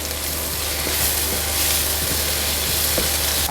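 Soya chunks sautéing in a hot pan for a devilled dish, giving a loud, continuous sizzle with occasional stirring scrapes, close up and without talk.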